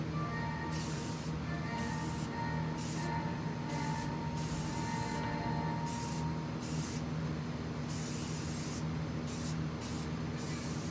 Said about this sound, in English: I'm going to spray paint my art studio or something on the canvas.